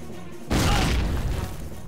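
A single anti-tank grenade explosion in the World War II strategy game Faces of War bursts suddenly after a quiet moment, loud and close, then rumbles and slowly fades.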